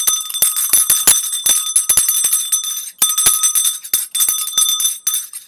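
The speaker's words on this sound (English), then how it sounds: "Hit the bell." Bright metallic bell sound effect, a rapid series of sharp, ringing strikes with shimmering overtones, loud and close, heard alone without talk.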